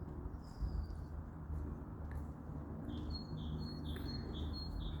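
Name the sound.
birds calling, rook and magpie nearby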